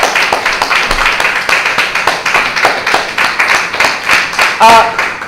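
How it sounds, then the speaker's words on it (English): Round of applause from a congregation for its ministers, dense rhythmic clapping that stays loud and even, with a brief voice near the end. "Let's give our hard-working brother ministers another round of applause"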